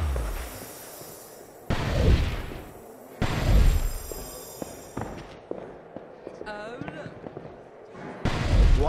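A Depulso spell firing in a Harry Potter video game, Order of the Phoenix, lets off three sharp, booming bursts several seconds apart, each fading into quieter game sounds with faint chirps in between.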